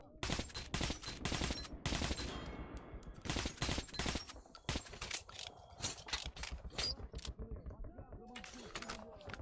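Gunfire in the video game Metro 2033 Redux: a dense string of sharp, loud shots fired in quick bursts and single cracks, with mechanical clicks between them.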